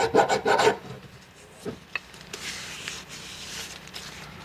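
Hand filing of sharp edges off a jet ski engine part, a quick series of rasping strokes at first, then quieter scattered scraping, close and without speech.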